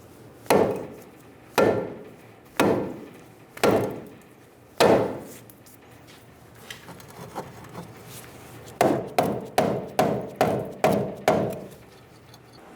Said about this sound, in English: Using a saw face hammer, we're going to bonk the knuckle down and get it off of the strut